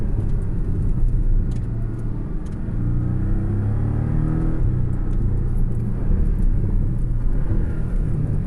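A Porsche 718 Cayman S with PDK gearbox downshifts and accelerates, its engine a steady loud rumble with rising revs throughout, heard close from inside the car with no talking.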